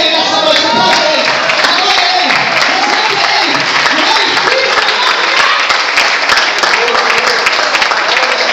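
Loud, sustained applause from a church congregation during an evening service, dense clapping filling the room continuously with crowd noise and some voices mixed in.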